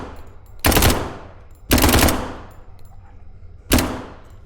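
Three loud, separate gunshot blasts fired in the video game Pandemic SCP, each a sharp crack with a short ringing decay and short pauses between, no talk.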